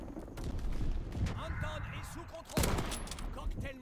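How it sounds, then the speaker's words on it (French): Rapid gunfire rattles in bursts during Call of Duty: WWII multiplayer, fairly faint and sharp with a loud crack near the end, while someone talks over the shots. "Je tire parce qu'on ne sait jamais."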